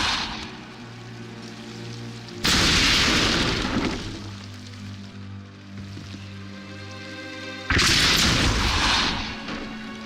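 Depulso spell cast in Hogwarts Legacy: two loud whooshing magical blasts with booming impact, separated by a lower, droning magical ambience with sustained tones, each burst fading gradually.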